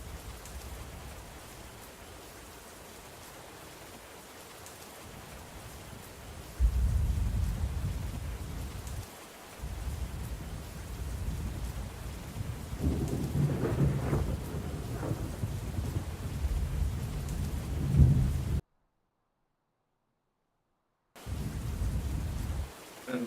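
A thunderstorm near a tornado gives steady rain hiss and drumming with deep rolling thunder that builds and swells, broken by a short total silence before the rain and rumble return.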